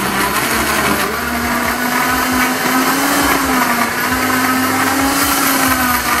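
A kitchen blender whirs steadily and loudly through a fruit smoothie, its motor holding one continuous high drone the whole time with no voices.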